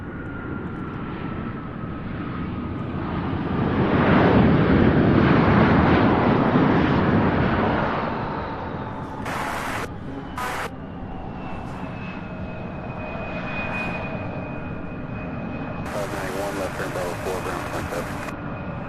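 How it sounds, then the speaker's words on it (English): An MD-11 jet moves at Louisville International Airport, a steady engine roar that swells louder midway then eases, with a voice talking over it. "Looks like that MD-11 is on the move."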